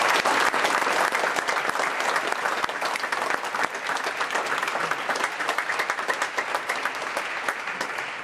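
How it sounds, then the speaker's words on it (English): Sustained applause from a large audience at a memorial ceremony, dense steady clapping throughout with no voices. "Would you join me in a round of applause for these?"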